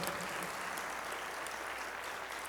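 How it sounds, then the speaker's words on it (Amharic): Steady, dense audience applause at a church pastoral ordination in Boston, continuous and even throughout without any break, heard from within the room. "አጨብጭቡላት።"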